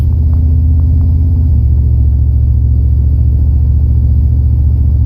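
Steady low truck engine rumble heard from inside the cab, a continuous loud idle drone with no speech over it.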